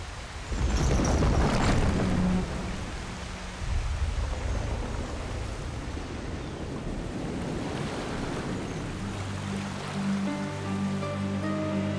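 Flowing water in the Darksiders II video game, a broad continuous rushing wash, loud at first and then settling into a steady roar, with a low tonal hum entering near the end.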